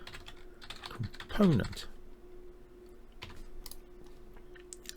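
Rapid clicking of a computer keyboard being typed on during a game-development tutorial, a short burst of keystrokes followed by sparse scattered taps, with someone talking over it.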